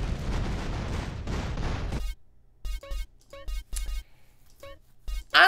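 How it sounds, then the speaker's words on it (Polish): Gunfire aimed at a helicopter in Grand Theft Auto San Andreas: a sustained roar of noise, then a series of sharp, loud shots in irregular bursts with brief gaps between them. "strzeliłem w nie ten helikopter co trzeba"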